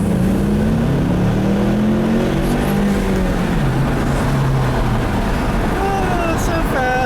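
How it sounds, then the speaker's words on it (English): A Ford Mustang pulls hard in second gear, its engine note climbing loud and steady from close range as the car accelerates, with some road and wind roar mixed in. "I'll leave you guys with a nice little acceleration here, like I always do. Second gear pull."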